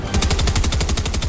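A combat submachine gun firing in the video game Fortnite, a fast, steady stream of about a dozen evenly spaced, loud, close shots in one continuous burst, with no talking.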